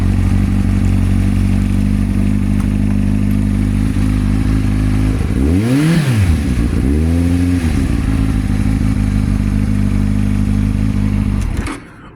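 A motorcycle engine starts with a rising whine, then idles and revs steadily and loudly, with a pitch sweep midway, before cutting off abruptly at the end; no one speaks.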